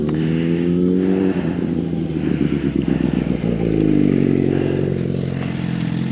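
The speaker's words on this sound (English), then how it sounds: "Out here on a track bike, got no tires" A track bike motorcycle, worn-out tyres, rides close by with a loud, steady engine drone and changing revs over about six seconds, with no talk.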